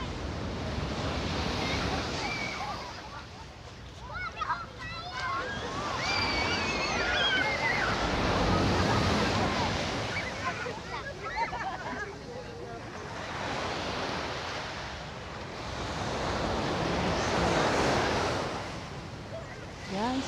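Large ocean waves roll onto a beach at Cagwait, loud, broad surf surges swelling and fading in slow cycles, with wind noise and people talking over the roar.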